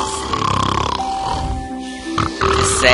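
A character snoring in the video game Botanica: Into the Unknown, a few rough, grunting snore sounds set against game background music.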